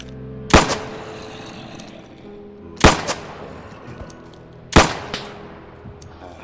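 Gunfire in a zombie apocalypse video game, three loud separate gunshots spaced a couple of seconds apart, each with a sharp crack and a ringing tail, with faint game sounds between them.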